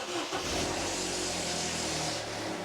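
A 2013 Vauxhall Corsa SXi 1.2 petrol engine starts and settles into a steady, fairly loud idle right after an oil and filter change, with a continuous mechanical hum and no talking.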